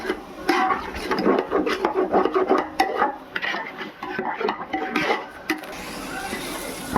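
Spoon stirring yogurt and masala together in a pot for chicken biryani, a run of wet scraping and rubbing strokes with occasional clinks against the vessel, close and fairly loud.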